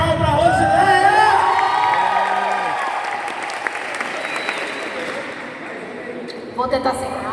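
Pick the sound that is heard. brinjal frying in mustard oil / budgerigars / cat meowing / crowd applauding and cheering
crowd applauding and cheering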